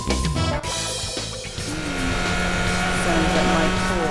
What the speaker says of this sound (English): Sounds like my Porsche.